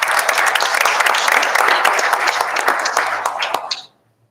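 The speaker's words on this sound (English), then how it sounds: "just a round of applause for those two community members who made this happen" A room full of people at a school district board meeting applauds, brisk dense clapping that holds steady, thins out and stops abruptly near the end.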